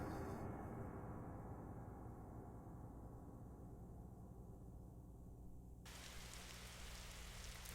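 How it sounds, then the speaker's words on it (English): Steady rain in the horror video game Nightmare Frames, a quiet, even hiss of falling water that brightens partway through and continues without pause. "Of course it's raining, good."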